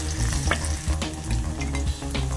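Chicken feet sautéing in reused, golden-brown frying oil, giving a steady close sizzle and crackle with soft stirring scrapes throughout.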